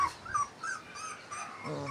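A dog whimpers and whines in a string of thin, high, plaintive cries close by, with no talking.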